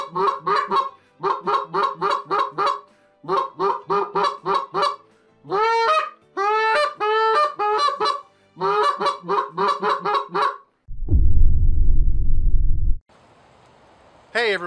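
A Primos Specklebelly goose call blown in repeated bursts of sharp, cackling honks and clucks that imitate a specklebelly goose, with a short low rumble near the end.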